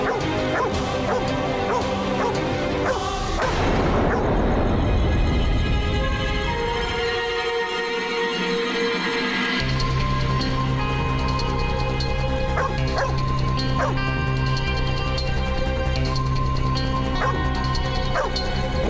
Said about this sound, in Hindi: ये कुत्ता इतना ज्यादा क्यों भौंक रहा है?